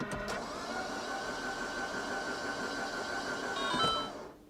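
A Mini Cooper S engine with its spark plugs removed cranks on the starter without firing, a steady mechanical whirr held for several seconds before cutting off, close and alone.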